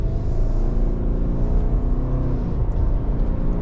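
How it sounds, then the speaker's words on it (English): Loud, close in-cabin engine drone from a 2023 Subaru Crosstrek Sport with a 2.5 liter naturally aspirated boxer and CVT, accelerating in sportier SI drive mode, a steady rising whir and rumble with no talk. "we got the CVT working at it to get us up to speed"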